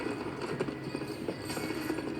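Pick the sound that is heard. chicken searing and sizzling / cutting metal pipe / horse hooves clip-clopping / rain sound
horse hooves clip-clopping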